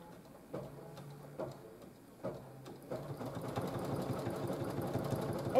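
A triple-needle embroidery sewing machine stitches with a quiet, rhythmic mechanical whir and ticking, pausing briefly at first, then running continuously and slightly louder.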